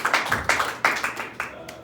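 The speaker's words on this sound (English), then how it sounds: "Put our hands together for them." A small audience at Casa de Carioca, a house in Ipanema, claps for the hosts: a handful of sharp, uneven claps close by that quickly taper off.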